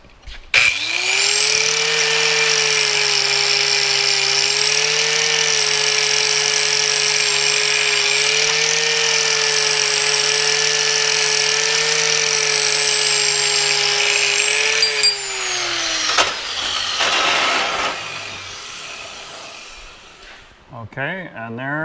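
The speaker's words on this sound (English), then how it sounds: "let me wire brush this real quick and kind of show it to you" A power wire brush cleans a TIG-welded tie rod with a steady high-pitched whine and scratchy grinding that holds for about fifteen seconds, then winds down into clattering handling noises.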